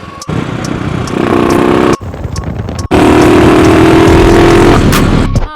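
A heavily modified Royal Enfield motorcycle engine runs loud and close, a steady throaty rumble with two brief drops in the middle before it resumes at full volume.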